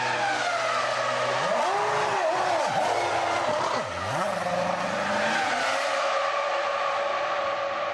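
Coulthard's McLaren Formula 1 car sits in a late pit stop while a loud continuous roar of engines fills the pit area, with high whining tones and pitch swoops as cars pass close by.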